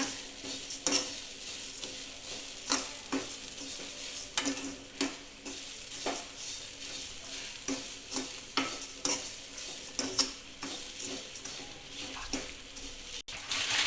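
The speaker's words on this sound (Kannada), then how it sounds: "ಕಾಯಿ ತುರಿನ ಸೇರಿಸ್ಕೊತಾ ಇದ್ದೀನಿ. ಫ್ರೈ ಮಾಡ್ಕೋಬೇಕು ಒಂದು 2 ನಿಮಿಷ." Grated coconut frying and being stirred in a pan for shavige uppitu, giving a steady close sizzle broken by frequent rhythmic scraping strokes of a spatula against the metal, with no talking.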